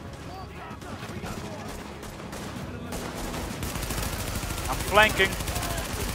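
Steady bursts of automatic gunfire rattle through a firefight against gangsters in The Division, with a couple of sharper, louder shots near the end. A voice speaks over the shooting.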